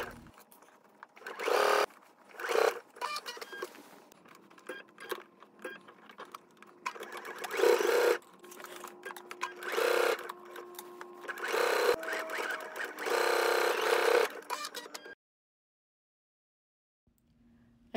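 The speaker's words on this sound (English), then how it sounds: "take this to the sewing machine so you can see how to stitch this onto the fabric" A sewing machine stitching a zipper onto fabric runs in bursts of rapid stitching with short pauses between, close and steady, then stops into near silence at the end.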